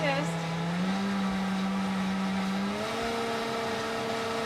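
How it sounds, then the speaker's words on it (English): A kitchen blender runs at high speed with a loud, steady motor whine that steps up in pitch as it spins faster, close and constant throughout. "Blend it till it's really nice and smooth."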